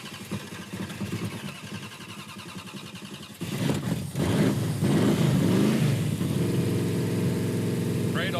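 A Dodge Coronet project car with a hot, smoking engine cranks and then catches, settling into a loud, rough, rumbling idle with revs that stays steady and close for the rest of the clip.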